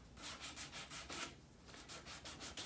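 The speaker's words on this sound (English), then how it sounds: "I'll show you with my sander how I do it" A sander rubs along the painted edge of a wooden drop-leaf table to wear it down, giving rhythmic back-and-forth scratchy strokes, close but faint, with no talking.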